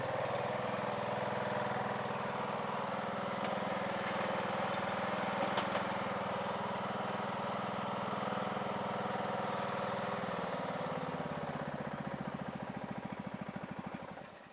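Murray push lawn mower engine running steadily up close, a continuous droning hum that shifts to a lower, pulsing idle near the end, with no talk.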